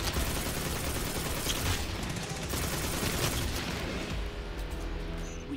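Sustained gunfire from a Destiny 2 shooting sequence, dense rapid shots and bursts packed into a steady wall of fire lasting throughout, with booming low-end impacts underneath.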